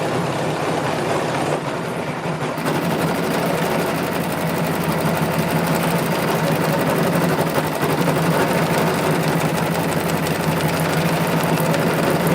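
A sewing machine runs continuously, stitching over earlier seams while making a lace lantern, with a fast, even mechanical clatter that holds close and loud throughout with no pauses.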